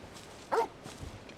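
A single short dog bark, fairly close and moderately loud, with quiet background around it.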